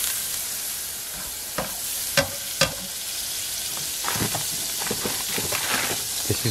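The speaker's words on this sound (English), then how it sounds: "really hot pan. I forgot about it. Let's add some butter." Butter sizzling in a very hot frying pan, a steady broadband hiss with a few sharp pops and crackles scattered through it, close and alone with no talking.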